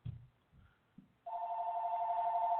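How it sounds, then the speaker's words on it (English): A telephone begins ringing after a few soft bumps, its steady electronic ring sounding clear and close and sustained to the end. "the phone is ringing as usual"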